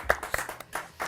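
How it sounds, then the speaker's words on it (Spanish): A few scattered hand claps in a farewell round of applause at the close of an interview, sparse and fairly near, with separate distinct slaps rather than a full crowd. "Nos despedimos con un aplauso"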